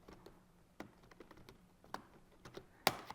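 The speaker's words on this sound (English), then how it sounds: "I have little thin metal tabs here on these pouches that I'm going to go ahead and very carefully cut with these scissors" Electric scissors snip thin metal tabs on fully discharged lithium battery pouches from a first-generation Nissan Leaf pack, giving a few sharp, close clicks and cuts spaced irregularly over a quiet background, with one louder snap near the end.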